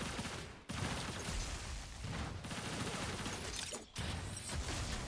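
Dense, continuous video game combat at a competitive match, with grenade blasts and rapid gunfire layered into a loud, unbroken roar that dips only briefly twice.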